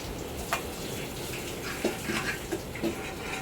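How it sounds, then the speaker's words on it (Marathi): Milk poured from a vessel into golden roasted vermicelli in a pan for kheer: a soft, faint liquid pour with a few small splashes over quiet background noise, no talk. "आणि आता दूध टाकणार आहे त्याच्यामध्ये"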